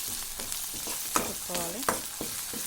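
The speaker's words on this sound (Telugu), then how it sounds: "ఇది పచ్చి వాసన పోయేదాకా కలుపుకోవాలండి" A ginger-garlic paste masala fries in a pan for a drumstick and tomato curry while a spoon stirs and scrapes it, giving several sharp clinks and squeaky scrapes over a steady low sizzle.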